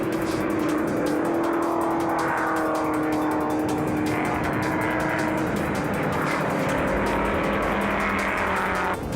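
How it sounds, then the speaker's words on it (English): Vintage race cars, Alfa Romeos and a Chevy Nova, howl at high revs through the final bend and onto the start-finish straight, a loud, continuous engine drone heard alone. "Du Toit tows the alphas round the final bend and onto the start-finish straight."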